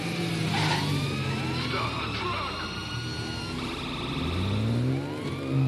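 Police car sirens in the video game GTA 5 wail in rising and falling sweeps over the growl of speeding car engines, loud and close with several overlapping tones.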